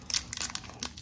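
A foil wrapper on a 2020-21 Upper Deck Series 1 hockey card pack crinkles and tears open up close, several short crisp bursts over about a second.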